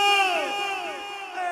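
A festival crowd at a live forró show in Manari shouts and whoops together in a sustained loud roar, with overlapping high voices swelling and fading over about a second and a half.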